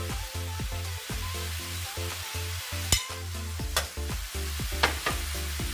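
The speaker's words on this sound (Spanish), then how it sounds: "Y ahora mezclamos muy bien todo." Chicken and bacon with squash frying in a pan, a constant close sizzle broken by rhythmic scraping strokes of a utensil stirring everything together.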